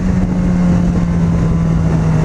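A Yamaha XJ6 motorcycle engine runs loud and close with a steady droning hum and no clear rev rises, its low rumble mixed with wind buffeting throughout.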